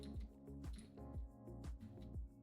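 Water dripping into a water pit in Minecraft, a steady series of soft, squishy drops repeating every half second or so, fairly close and clear with no talking.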